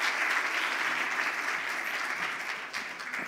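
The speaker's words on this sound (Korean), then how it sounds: "박수로 한번 격려해 주시면 감사하겠습니다." A church congregation applauds a newly baptized member during a Korean worship service, a dense, steady wash of many hands clapping together, fairly loud and sustained throughout, easing slightly near the end.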